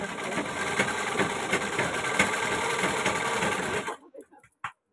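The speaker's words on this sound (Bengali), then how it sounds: "এই দেখো আমি সেলাইটা করে নিচ্ছি" A sewing machine stitches a ghagra skirt in a loud, fast continuous run for about four seconds, then stops abruptly, leaving only a few faint knocks.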